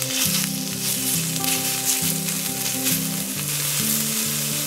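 Food sizzles loudly and steadily on a smoking hot iron griddle at Senbon Kogen campsite, a dense continuous crackle with no voices.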